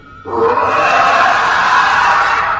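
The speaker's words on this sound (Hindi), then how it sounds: "उसने शेर की तरह गुर्राना शुरू किया" A harsh, rasping growl like a lion's starts abruptly and holds loud and steady for about two seconds.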